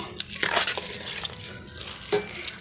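Eggplant mixture with green chilli, curry leaves and coriander is stirred in a hot pan, with a steady close sizzle of frying under brisk scraping and stirring strokes and occasional utensil clinks.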